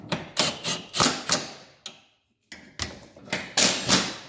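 Bolts on the cross member of a Porsche 944 being tightened to torque with a ratchet during oil pan gasket reinstallation, heard as a close series of quick, sharp metallic clicks in bursts, with a brief silent pause partway through.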